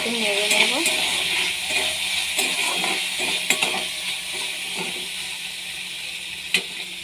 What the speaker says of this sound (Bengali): একটু সোয়া সস দিয়ে দিলাম। দিয়ে একটু নেড়ে নেব।